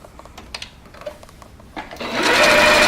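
A sewing machine stitches a straight seam on a shirt, starting after faint handling clicks and rising into a steady, loud mechanical whir up close.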